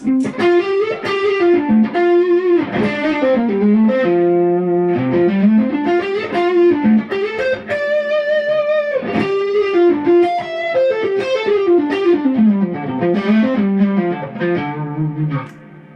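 Electric guitar through a Walrus Audio Slow reverb pedal playing sustained chords and melodic lines with a washy, lingering ambient tail, steady and fairly loud throughout, no voices.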